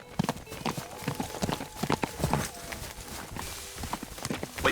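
Horse hooves clip-clop in the video game Teardown, an uneven run of sharp knocks over a busy background, with a voice talking now and then.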